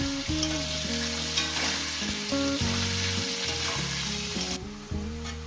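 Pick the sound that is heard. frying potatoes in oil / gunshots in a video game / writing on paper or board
frying potatoes in oil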